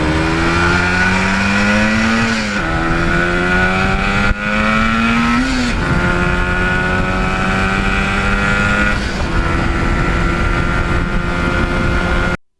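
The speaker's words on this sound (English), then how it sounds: "there is just something about two strokes when you go through the gears" A 1977 Yamaha RD400 two-stroke motorcycle accelerates hard through several gears, its buzzing engine note climbing and dropping at each shift, loud and close throughout.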